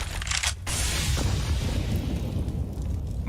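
In a CS:GO match, a grenade blast arrives as a loud broadband roar that holds steady for several seconds, with no clear talk over it.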